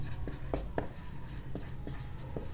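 Pen writing on paper during a class 10 NCERT maths lesson, a steady soft scratching with several sharper strokes, close and quiet, with no one speaking.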